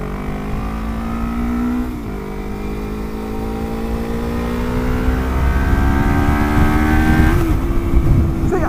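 A Lexmoto LXR 380 motorcycle engine drones steadily at road speed, rising in pitch through a gear, dropping briefly at a shift, then climbing again, loud and close with wind rush underneath.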